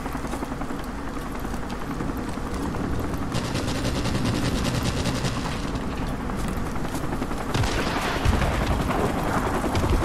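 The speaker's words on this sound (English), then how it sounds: "Let's try the AK-74 you." Sustained AK-74 rifle fire in Modern Warfare Remastered, loud rapid automatic bursts running almost continuously with dense rattling reports and game battle noise beneath, no talking.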